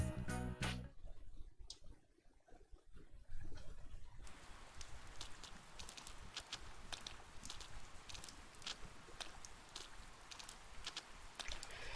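Steady rainfall in Persona 4 Golden, a continuous pattering wash with scattered drop taps, faint at first and then filling in evenly and holding at a moderate level.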